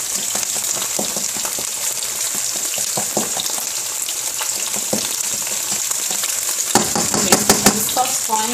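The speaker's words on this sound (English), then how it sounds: "As we cook the egg, we have to like separate it in like little pieces." Egg frying in oil in a pan for hibachi beef fried rice, a constant loud sizzle with scraping and stirring clatter, growing busier near the end.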